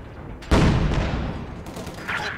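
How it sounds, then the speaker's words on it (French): A Soviet anti-tank gun opens fire in the strategy game Company of Heroes 2. A single heavy blast hits after a short pause and rolls into a long decaying rumble, with further battle noise rising near the end. "Canon anti-char, on ouvre le feu."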